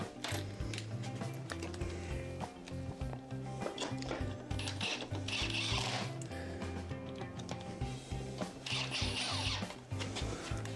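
A powered screwdriver drives four screws into the battery mount of an INMOTION V14 50S electric unicycle, whirring and ratcheting loudly and continuously up close with brief changes in pitch and load.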